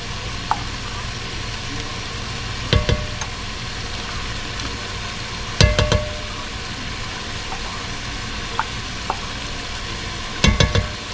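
Tomato paste cooking down in a pan for an oven brisket, a steady low sizzle broken by a few sharp clinks and scrapes of utensil against pan, close and alone without talk.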